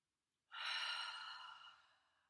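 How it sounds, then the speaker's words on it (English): A single long breath out, faint and close, begins abruptly and fades slowly, a soft airy whoosh heard alone during a relaxation exercise. "breathing in but breathe out through the mouth"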